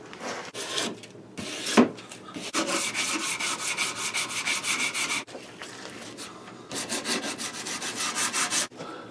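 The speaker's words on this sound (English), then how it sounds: "We'll get them sanded down. No, and get a side plate out. Then we'll sand it down." Sandpaper rubbing over the wooden stock of a Pedersoli Kentucky flintlock pistol, close and continuous rhythmic back-and-forth scraping strokes with a few short pauses and a knock partway through.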